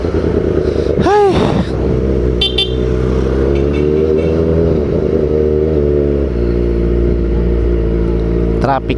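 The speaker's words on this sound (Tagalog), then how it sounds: "Traffic pala dito." Road traffic around a rider on a Kawasaki ZX-4RR motorcycle, with a steady engine and road rumble throughout and short bursts of car horns honking nearby, while someone talks over the noise.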